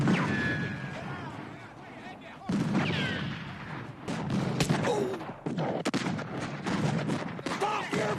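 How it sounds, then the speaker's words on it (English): Gunfire from the 1985 western film Silverado, with repeated sharp shots and booming reports in a chaotic firefight, mixed with shouting voices and score. "Stop your firing!"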